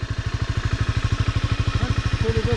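Honda CBR250 motorcycle engine pulling away from the clutch point, a rapid, even, thumping pulse at close range that rises slightly, with faint speech near the end.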